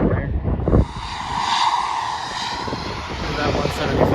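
An American Airlines Embraer 175 jet taxiing at Lexington's Bluegrass Airport, its engine roar and whine steady and fairly close, with a knock of wind noise at the start.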